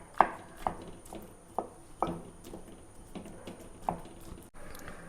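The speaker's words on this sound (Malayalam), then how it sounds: "അപ്പോൾ നമ്മളെ കപ്പയൊക്കെ നന്നായിട്ട് ഉടച്ചിട്ടോ." Boiled cassava (tapioca) being mashed in a pot, giving several soft, irregular thuds and squishy knocks spaced apart, close and fairly quiet, with no talking.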